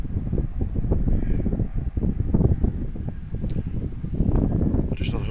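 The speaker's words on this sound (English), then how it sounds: "it appears to be just some crows having a bit of a fallout with each other" Several crows caw and squabble at a distance near a hedge and wood, with irregular harsh calls over steady wind noise and rustling.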